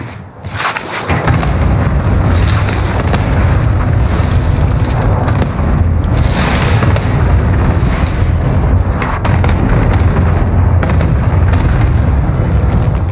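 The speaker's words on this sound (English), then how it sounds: "Cluster strike is active." A Warzone cluster strike unleashes a dense, continuous barrage of booming explosions, with close, heavy rumbling blasts overlapping one another for over ten seconds and no pause.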